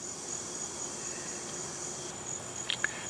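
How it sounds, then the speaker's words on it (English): Cicadas in a summer meadow make a continuous high, shrill buzzing drone that holds steady throughout, with a couple of brief chirps near the end and no voices. "Cicadas were singing non-stop, and at times that sound was deafening."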